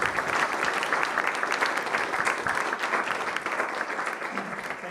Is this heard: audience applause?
yes